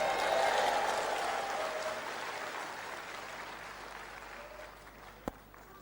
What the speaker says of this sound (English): Clap your hands anyhow